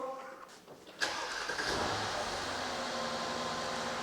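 A Mercedes-Benz S-Class engine cranks and catches after a second of quiet, then settles into a steady, rumbling idle close by.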